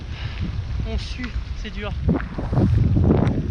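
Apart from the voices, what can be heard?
wind blowing into microphone while paddleboarding at sea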